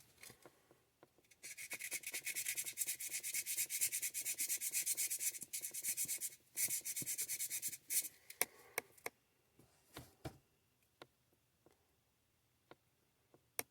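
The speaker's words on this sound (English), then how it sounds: "I'm going to be doing the sanding for a while, just to make sure I've got an even surface." Close, rhythmic scraping of a Deer Creek fire agate being sanded during carving runs for several seconds, then breaks into scattered light taps and scratches as the room falls quiet.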